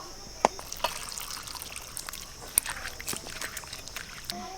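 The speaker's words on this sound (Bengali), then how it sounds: "আলুগুলো আমার কাটা হয়ে গেছে এবার আমি ধুয়ে নেব" Cut potatoes being washed in a bowl of water: light splashes and trickles with a few sharper knocks and clatters, close and fairly quiet, with no one talking.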